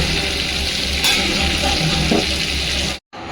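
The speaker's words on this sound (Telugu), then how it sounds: "ఇప్పుడు ఇది బటర్ని మనం వేడి చేసుకొని అందులో పోసేసుకుందాం." Melted Amul butter being poured into murukku flour makes a steady, loud, close sizzling hiss that runs unbroken for about three seconds before cutting off abruptly, with no talking.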